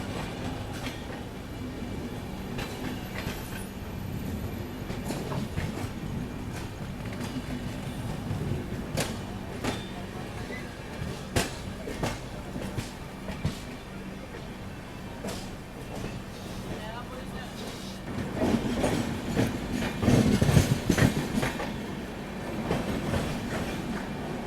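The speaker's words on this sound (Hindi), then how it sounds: "सामने से आ रही है तो ये है अहमदाबाद योगी नगरी ऋषिकेश योगा एक्सप्रेस" The Ahmedabad Yogi Nagari Rishikesh Yoga Express rumbles past with steady clickety-clack from its wheels and some squealing, while a person talks over it.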